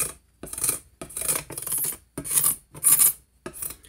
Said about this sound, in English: I'm just used to using this scraper I've had forever that I actually shape necks with when I'm carving necks.